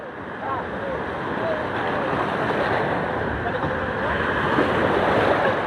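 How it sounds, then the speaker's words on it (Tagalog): Steady roar of big sea waves and rushing water around an outrigger boat, with heavy wind buffeting the microphone, continuous and loud throughout. "Lalaki na alon mga master."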